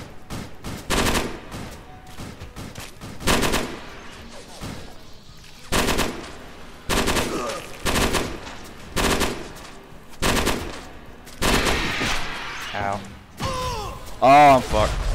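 Burst-fire gunfire in a video game, short clustered volleys of shots repeating every second or two across the span, loud and close, with mechanical clacks and an explosion-like thump near the end, under occasional talk.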